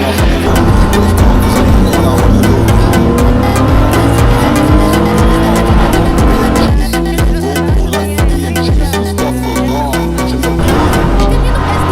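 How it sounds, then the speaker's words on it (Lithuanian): Race cars in an endurance event at Nemuno Žiedas roar off the start toward the first corner, a dense, loud wall of engines revving and passing with no gaps. "startas duotas ir visi automobiliai nurūksta pirmojo posūkio link"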